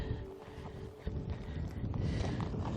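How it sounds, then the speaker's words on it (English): Gusty wind buffets the microphone at RSPB Arne nature reserve in Dorset, a low rumbling roar that swells and fades unevenly throughout with no other clear sounds. "It is quite windy."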